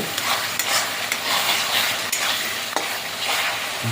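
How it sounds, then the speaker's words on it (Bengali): Fried chicken pieces are dropped into hot oil and spices in a pan, giving a loud, continuous close sizzle broken by several sharp spatula clicks and stirring scrapes, with no talking. "এবার ভাজা মুরগি মাংসগুলো দিয়ে দেবো"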